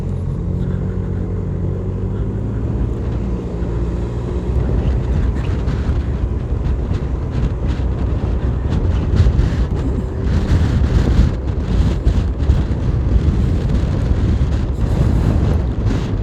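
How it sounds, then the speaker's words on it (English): Heavy headwind roars against the microphone during the Belmopan Cycling Classic road race, a loud, continuous rushing buffet that swells and gusts throughout with no talking. "heading into a heavy headwind here at mile 12"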